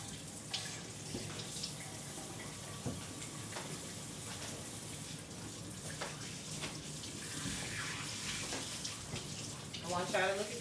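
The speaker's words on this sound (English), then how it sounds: "I'm gonna wash my hands" Hands are washed under a running tap in a home kitchen during cooking, a steady rushing stream of water filling the whole stretch, with a light clatter near the end.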